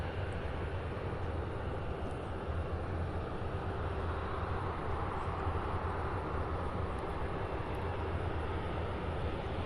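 A Delta CRJ 900 jet at Louisville International Airport gives a steady, loud broadband engine roar with no break, heard from a moderate distance.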